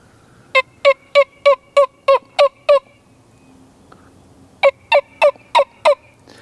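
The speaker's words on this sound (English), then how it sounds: "This is probably the loudest turkey call that you can get, so sounds a little something like this if I do it right." A wingbone turkey call blown loudly in two bursts of rapid yelps, seven sharp notes then six more after a short pause, close and clear with no talk.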